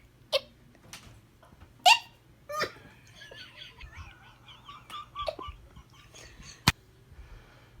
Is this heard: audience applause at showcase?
no